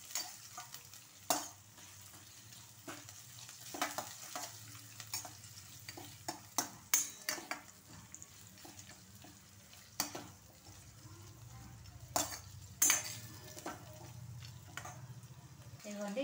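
Onions sizzle in hot oil in a pan for a curry, a soft steady frying hiss broken by repeated scrapes and clinks of a stirring spoon, with faint talk now and then.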